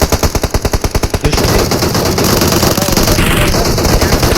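Video game gunfire during an online esports team scrim: a clipped series of rapid machine-gun bursts, then loud continuous automatic fire that fills the rest of the moment.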